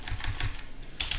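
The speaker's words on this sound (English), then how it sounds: "So if I type Podman" Quick keystrokes on a computer keyboard as a command is typed, a short burst of close, light clicks followed by a brief pause and a few more taps.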